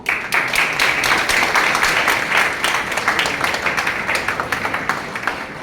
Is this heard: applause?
yes